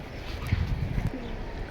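Pigeons in a crowded loft give low, soft coos in short repeated pulses close by, alongside a few faint higher chirps.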